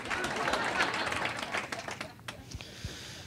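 Audience applause at a conference talk, a loose patter of clapping that is fairly strong at first, then thins out into scattered claps and fades.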